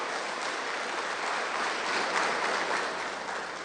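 A church congregation at a Sunday service claps for Jesus, a dense, even wash of applause heard from a little distance and sustained throughout without speech.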